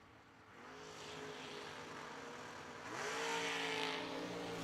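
Blue Chevrolet dragsters idling and revving at a drag race starting line, a distant, steady engine roar that swells in two stages as the revs climb, heard from afar in open air without talk.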